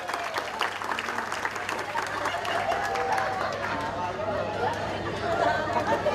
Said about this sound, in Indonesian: kasih tepuk tangan lagi buat kelompok angin.